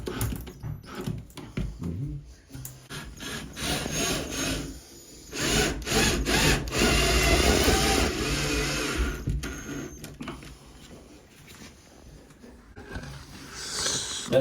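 Long wood screw being driven into a wall stud through tile to mount a shower grab bar, a sustained grinding, rasping drive with a few short bursts and a loud continuous stretch in the middle.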